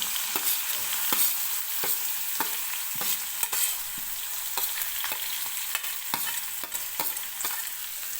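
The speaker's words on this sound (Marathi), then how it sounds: "सुरुवातीला बारीक चिरलेला कांदा टाकायचा आहे" Finely chopped onion and crushed garlic frying in hot oil with cumin, a steady close sizzle broken by regular sharp scrapes and clicks of a spoon stirring the pan, with no voices.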